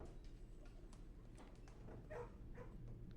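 Dogs in a kennel in the Blue Prince video game: faint, soft barks and whimpers are scattered over a low, steady background hum.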